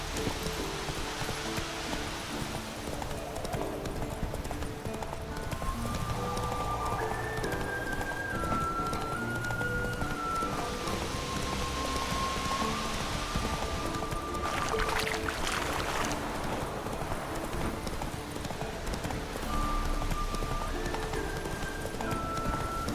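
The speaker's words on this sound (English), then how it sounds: "That's his horse. What's its name? Scorpion? Beautiful animal." Eskel's horse Scorpion in The Witcher 3 clops its hooves in a steady, moderately close rhythm, with an occasional whinny, low game ambience and background music underneath.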